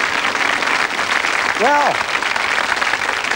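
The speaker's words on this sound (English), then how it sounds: "Give them a round of applause." A studio audience claps in a steady, broad wash of applause while someone speaks over it.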